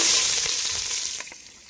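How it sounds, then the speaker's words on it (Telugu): Onions sizzle in hot oil in a pan, cooked village style for a country chicken curry, with a loud hiss that starts strong and gradually fades, plus a couple of light stirring scrapes. "నూనె అయితే బాగా వేడైనట్టుంది. ఉల్లిపాయలు వేసేసుకుందామా?"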